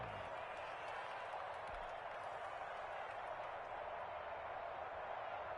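Football stadium crowd during a Texans vs Patriots game, a steady, dense roar of cheering and applause ahead of a big third down, sustained and even throughout.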